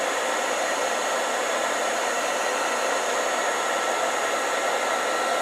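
A heat gun shrinking tubing over the motor wires of a Singer 201-2 potted motor blows a constant, loud, close airy roar that holds unchanged throughout, with no speech.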